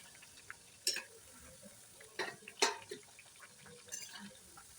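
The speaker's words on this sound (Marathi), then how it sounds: "मीडियम गॅसवरती तळून घ्यायच्या म्हणजे आतपर्यंत छान तळल्या जातात खुसखुशीत होतात" Alu vadi fry in oil over a medium gas flame, with a faint background sizzle punctuated by a few soft crackles and spatters spaced unevenly.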